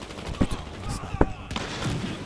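Sniper rifle fire in the video game Battlefield Hardline, Heist mode, a couple of sharp, loud shot cracks spaced about a second apart amid game ambience, with a player talking around them.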